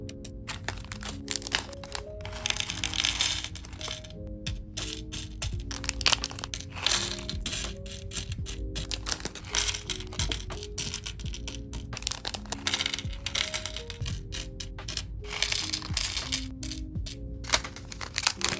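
Small nail art charms clatter and tick as they are sorted and dropped into plastic containers, a busy run of light clicks and crinkles over steady background music.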